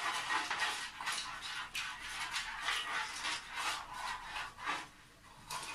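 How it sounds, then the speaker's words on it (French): A utensil stirs water and spices in a cooking pot, making a steady, soft scraping and swishing with a loose rhythm, close but quiet, with no talk. "Vous allez touiller pour mélanger l'eau avec les épices."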